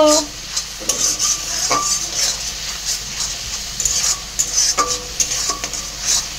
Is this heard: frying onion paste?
yes